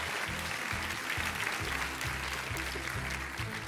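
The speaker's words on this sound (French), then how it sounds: "l'applaudir bien fort" An audience at a talent-show audition applauds loudly and steadily, with rhythmic bass-heavy music playing underneath throughout.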